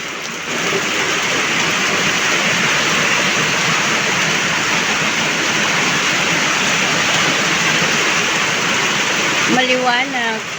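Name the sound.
heavy rain pouring down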